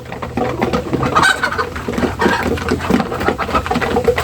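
Several chickens cluck and murmur close by inside a poultry farm in a busy, continuous flock chatter, with a few sharper calls rising above the rest.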